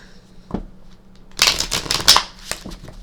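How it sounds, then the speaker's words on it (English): Tarot cards being shuffled by hand in quick riffling bursts, a soft tap first, then crisp flicking clusters, close and clear with no talking. "So let's give it a little bit of a shuffle"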